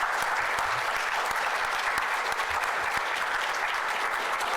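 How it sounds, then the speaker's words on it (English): Sustained audience applause at the close of a conference plenary panel discussion on population health, a steady dense clatter of clapping hands filling the room for several seconds with no talk over it. "let's give the panel a round of applause"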